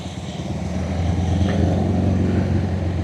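A Honda CB motorcycle with an underslung exhaust idles and revs nearby, a steady low, round engine rumble that swells slightly in the middle, heard alone without talk.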